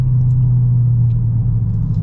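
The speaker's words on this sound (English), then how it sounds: "Again, the exhaust, it's definitely a highlight of this car." A 2022 Dodge Charger Daytona's exhaust gives a steady, deep rumbling drone, loud and close, holding even throughout with no talking over it.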